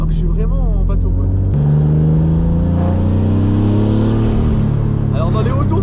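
Car with reinforced engine and gearbox mounts accelerating, a loud interior engine note with clear rising harmonics and a sharp gear change partway through, while someone talks over it at the start and end.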